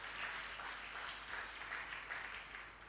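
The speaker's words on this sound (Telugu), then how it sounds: "చప్పట్లు కొట్టి దేవుని మహిమపరచు." A congregation clapping at a gospel prayer fellowship in Nellore, a soft, even patter of many hands heard at a distance, steady and faint throughout.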